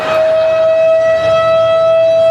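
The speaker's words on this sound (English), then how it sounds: "They hear a siren." A civil defense siren sounds loud and close as a single steady, unbroken tone that holds at one pitch with no other sounds around it.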